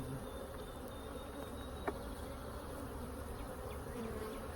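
Honey bees swarm over a disturbed hive, producing a faint, steady, close buzzing that runs throughout, with one brief click partway through.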